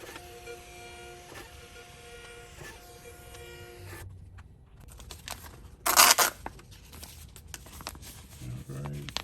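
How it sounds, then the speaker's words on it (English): A small, dirty Dymo or Enko label printer whirs and feeds labels for a few seconds, then stops; a sharp tearing rip follows, with light handling noises afterward. "Let's go ahead and print a few more and see how they look."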